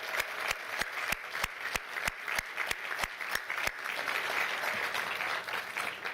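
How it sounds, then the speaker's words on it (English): Audience applause at a city State of the City event, with sharp rhythmic claps at first that build into a dense, sustained round of clapping from the crowd. "let's give a big round of applause for all the volunteers and staff"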